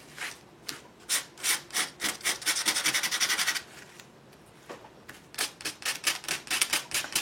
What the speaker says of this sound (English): I'm just doing a crisscross with the sandpaper in one direction and then another.